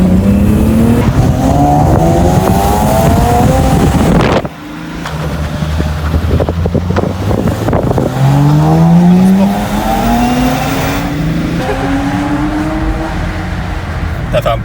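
BMW E30 car being revved and driven hard, engine wailing through climbing revs close by, cutting out sharply partway, then roaring again with rising sweeps and a tire-squeal edge, loud and continuous with no voices.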